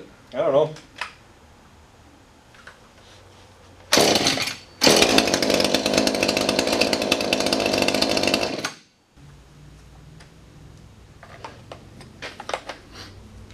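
A Husqvarna 435 chainsaw, freshly adjusted at the carburetor, revs up in a loud buzzing burst for several seconds, then cuts out, with a voice speaking briefly before and after.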